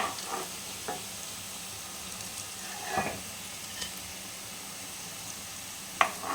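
Fig fritters (dumurer bora) frying in a pan give a steady, soft sizzle throughout, with a few sharper crackles and pops and no voices.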